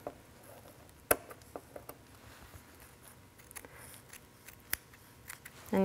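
Scissors snip a fabric zipper tab on a lined wetbag, two sharp clear cuts standing out from quiet room background, with a few faint soft clicks between them.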